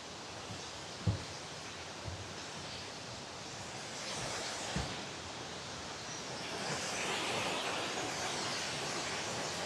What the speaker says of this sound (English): it has to go down the waterfall.